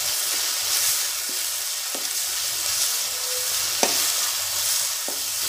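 A spice paste with turmeric frying in a pan, a bright, steady close-up sizzle with occasional light taps and scrapes of stirring.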